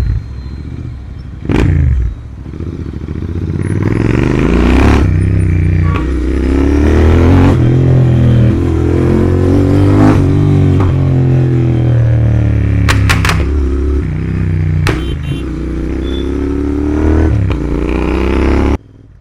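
A Royal Enfield Interceptor 650 motorcycle accelerates hard in first gear, its engine note climbing loud and close over most of the run, with a few sharp clattering pops near the end.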